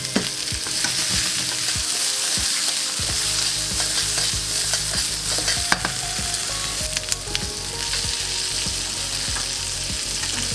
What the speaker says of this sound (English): So I'm gonna cook the asparagus a little bit first